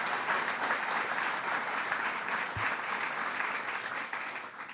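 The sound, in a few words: audience applause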